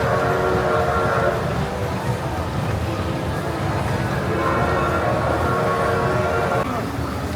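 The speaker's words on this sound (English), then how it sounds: "You hear the real train noises." An indoor mall train ride rumbles along with a steady mechanical roar, and a tonal whistle sounds twice in long held blasts over the continuous noise.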